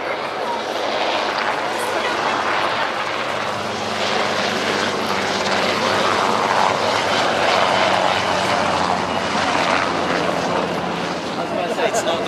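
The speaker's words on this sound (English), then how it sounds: "air show debut of this magnificently restored Wessex HU5, the only Wessex currently flying in the UK" Restored Westland Wessex HU5 helicopter flying at an air show at Yeovilton, a continuous broad rotor and turbine roar that swells slightly as it passes, with a voice talking over it.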